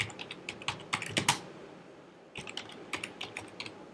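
Code being typed on a computer keyboard, bursts of quick, close key clicks in two runs split by a short pause, with no talking.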